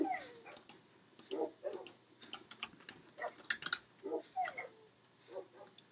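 An injured dog in Minecraft gives a string of short, high whimpers and yips in quick irregular bursts, with a soft background hum.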